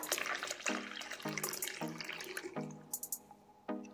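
Water pours into a pan of vegetable biryani in several bursts, splashing and gurgling up close, with the pitch of the filling vessel ringing through each pour.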